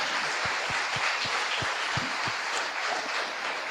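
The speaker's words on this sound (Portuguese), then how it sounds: "Aplauda ao Senhor." A church congregation bursts into applause, a dense, continuous wash of many hands clapping together at close range for a few seconds, with no one speaking over it.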